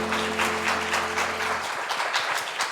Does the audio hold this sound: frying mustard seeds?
no